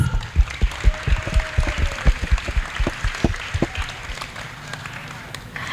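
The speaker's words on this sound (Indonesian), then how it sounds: "tepuk tangan untuk Bagus" Students in a school hall clap for a classmate, a loose, uneven burst of individual hand claps close by, with some voices and movement around them, tapering off toward the end.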